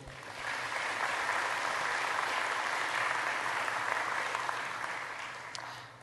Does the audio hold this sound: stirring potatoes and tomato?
no